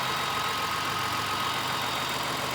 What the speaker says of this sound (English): I'm just gonna start it for a minute so you can hear the engine